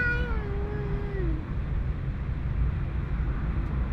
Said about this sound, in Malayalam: ഒരു പൂച്ചയും പട്ടിയും.